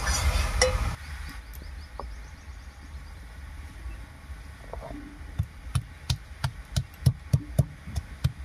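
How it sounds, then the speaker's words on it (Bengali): Cumin and ginger are ground into a spice paste, heard as a series of rhythmic knocking strikes that start faint and grow louder and more regular toward the end, with a soft scraping earlier on. "একটুখানি জিরা, একটুখানি আদা বেটে নেব।"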